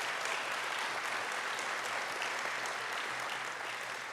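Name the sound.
audience applause at Draft Day event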